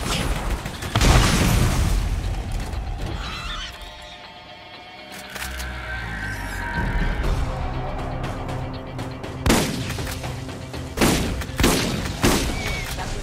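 Shotgun blasts in Borderlands, several loud booming shots at uneven intervals, mixed with other game noise and explosions.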